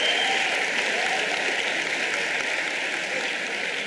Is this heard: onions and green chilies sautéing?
no